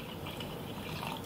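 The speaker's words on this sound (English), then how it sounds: "add a little bit more coconut water to thin that out" Coconut water poured into sea moss gel to thin it, a steady soft liquid trickle and drip running evenly and close by for a moment.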